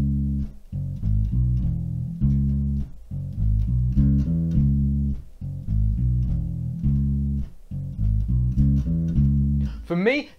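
Two-bar bass riff of a 1967 song, a thick low line cycling over and over with drums, loud and close.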